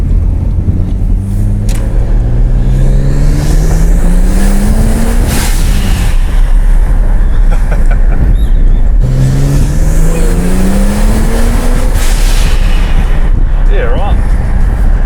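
A turbocharged Ford XR6 Turbo runs on a dyno, loud and close. The engine revs up in two long rising pulls with a roaring exhaust, and there are brief drops between the runs.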